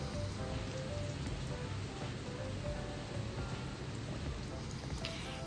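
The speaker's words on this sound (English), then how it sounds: "I don't know if you can tell, but it's raining" Steady, heavy rain falls outside, a continuous dense patter that fills the whole stretch evenly with no pauses and no voices over it.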